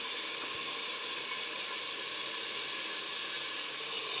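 Potatoes cook with meat in a pan, giving a steady, even sizzle and hiss. The sound is moderate in level and continuous, with no voices.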